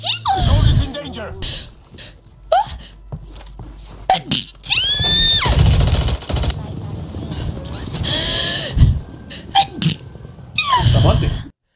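Several loud sneezes burst out in sharp separate bursts, with wailing, squealing cries between them and people talking around.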